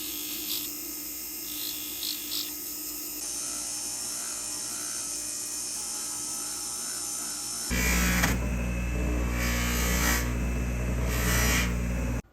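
A small rotary tool whirs steadily as platinum ring prongs are carved into a triangular shape, its pitch shifting partway through and the grinding growing louder and rougher near the end, with brief contact scrapes.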